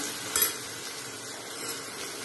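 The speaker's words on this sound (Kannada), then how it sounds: "ಆಮೇಲೆ ಬಟಾಣಿ ಹಾಕ್ತೀನಿ ನೋಡಿ ಇವಾಗ" Green peas hit hot tempering for a set dosa gravy and fry with a soft, close sizzle. A brief stirring scrape sounds near the start, then a steady hiss continues.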